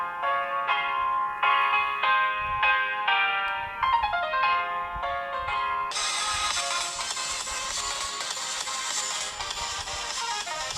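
A Samsung Galaxy A20 phone speaker plays a bright melodic ringtone: a run of chiming, evenly paced tones, then a fuller, denser stretch of music. It sounds close and steady with no talking.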